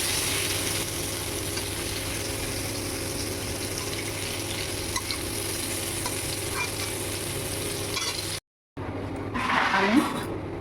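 Bitter gourd sizzles steadily in hot oil with turmeric in a pan, a continuous loud crackling fry that cuts off briefly near the end before resuming with some clatter.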